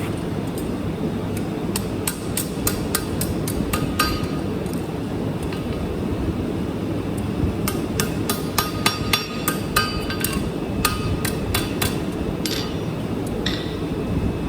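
Rapid, steady hammer blows flatten metal for a flint striker in bursts of sharp metallic taps, with brief pauses between runs and a low rumble underneath.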